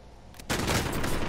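Gunfire in the Warzone video game: a sudden loud burst of shots begins partway through and continues as dense, sustained firing after a quieter opening.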